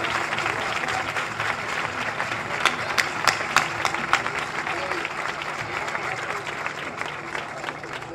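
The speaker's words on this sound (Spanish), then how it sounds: "Muchísimas gracias por esos pedazos de aplauso" A festival crowd applauds a chirigota carnival troupe's performance at the Albolote fiestas with dense, sustained clapping. A few sharper, louder claps stand out near the middle, and the applause stays strong throughout.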